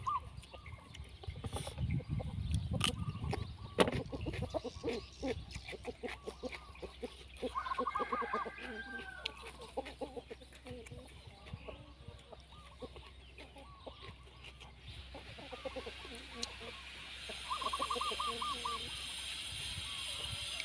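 Chickens clucking at an outdoor Thai farmyard while being called to drink, with repeated short clucks and fowl calls under steady background noise and someone talking.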